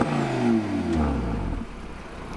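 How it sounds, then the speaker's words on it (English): A 2020 Audi RSQ3 Vorsprung turbo engine revs up and then falls away, a short close rising and dropping snarl with a slight clatter at the end and no talking. "Oh, yes. Turbo sound."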